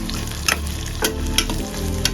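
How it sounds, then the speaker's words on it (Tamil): Onions sautéing in a pan for a spicy garlic curry, a steady close sizzle and crackle with a few sharp scrape-like clicks of stirring, no talking. "இன்னும் நல்லா வதங்கிட்டு வெங்காயம்."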